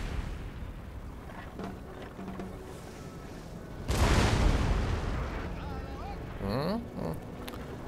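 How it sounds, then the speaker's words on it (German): Cannon fire from artillery in Napoleon: Total War targets the enemy general's staff, a single heavy boom rolling out midway through distant battle rumble, with voices in the mix. "dann schieße ich doch auf den Generalstab mit Kanonenkugeln"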